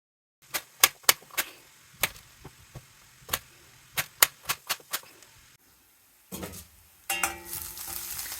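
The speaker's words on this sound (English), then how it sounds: "cut the potatoes, peel the potatoes, cut into small pieces" Knife cutting peeled potatoes into small pieces, a series of crisp, separate chops on a board in an irregular rhythm, close and clear, followed by a brief sizzle of frying.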